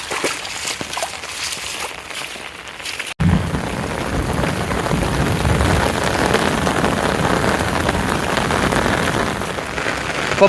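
Heavy rain pours down in a village, a steady dense roar of drops striking surfaces that starts softer and jumps louder after a brief cut, continuing unbroken with no talking.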